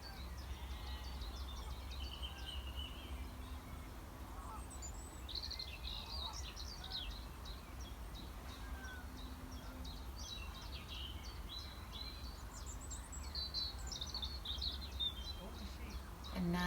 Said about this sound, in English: see if you can hear the bird song